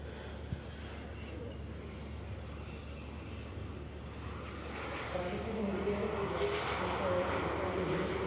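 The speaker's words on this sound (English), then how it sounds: "And there's the A400M coming in." Airbus A400M military transport aircraft in a flying display at an air show, a broad distant engine and propeller drone that grows louder toward the end, with a commentator talking over it.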